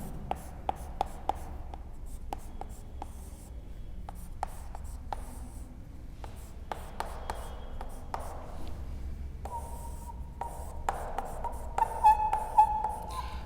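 Marker or chalk writing on a board during a class 10 lesson on Cascading Style Sheets: a series of short, sharp taps and scratchy strokes, close and fairly quiet, without talk.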